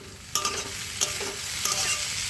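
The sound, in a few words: stirring watermelon rind curry in a pan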